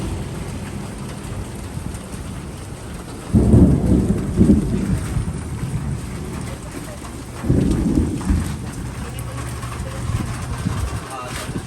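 Steady rain pours throughout, with two deep rumbles of thunder swelling up and fading, and faint voices in the background.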